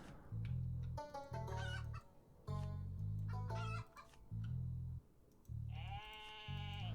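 Chickens in the farming card game Terracards cluck in a series of short, close, bright calls that repeat every second or so over a steady, pulsing backing of game music.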